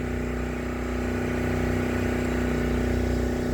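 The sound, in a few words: generator running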